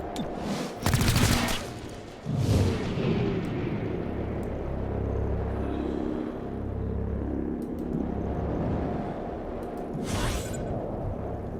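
Gunfire from the tactical shooter XCOM: Chimera Squad, with a few sharp bursts near the start and another near the end over a steady low rumbling game soundscape.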